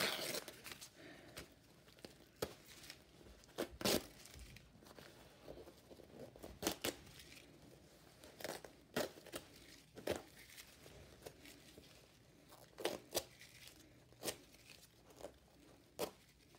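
Stabilizer backing peeled away from the back of embroidered fabric, giving a series of short, sharp tearing and crinkling rips spread over the stretch with small pauses between them, close and fairly quiet, with no talk.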